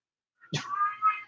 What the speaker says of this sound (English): My cat literally is trying to beat my other cat's ass right now.